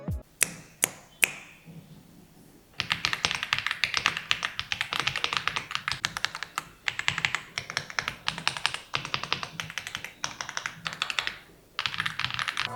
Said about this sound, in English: The keyboard, though satisfying to type on, can be a bit too sensitive